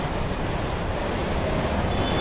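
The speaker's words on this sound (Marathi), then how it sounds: "हा कसला आवाज आहे? ट्रेनचा आवाज आहे." A train rumbles past in light rain during a crowded Ganesh procession in Mumbai, a dense, steady roar of rolling wheels and engine noise filling the scene without pause, fairly loud and close.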